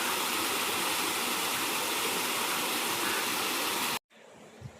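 Steady, loud rush of water from an irrigation pump motor feeding a groundnut field runs unbroken for about four seconds, then cuts off abruptly to near silence with a faint knock at the end.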